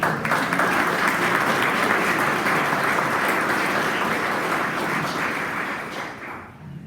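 A church congregation breaks into sustained, dense applause that holds steady for several seconds before tapering off at the end.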